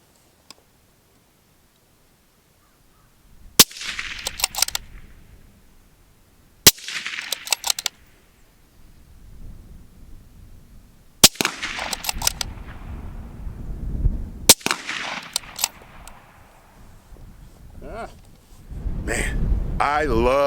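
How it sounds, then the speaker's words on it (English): Suppressed .223 rifle shots ring out at intervals, four spaced cracks fired at a dead tree and a steel plate, each followed by a rattling, clanging tail and outdoor ambience, with a voice talking near the end. "we're gonna do 2 on the dead tree and 2 on steel."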